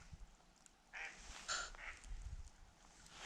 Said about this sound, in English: There's another duck.